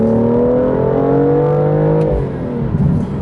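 A 2017 BMW M2 sports car engine revs loudly and close by, its pitch climbing in a smooth rising whine before easing off near the end.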